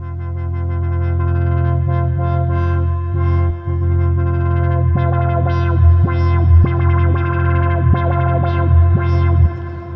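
Sonicware Liven Ambient Ø synthesizer plays a sustained, drone-like pattern with heavy distortion and chorus-like effects, its texture shifting step by step as parameter-locked rate changes flicker and pulse through the sound, loud and without talk.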